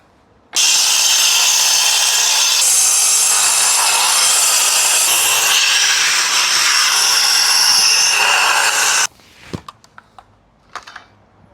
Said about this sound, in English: I'll start with the grinder on the back face here.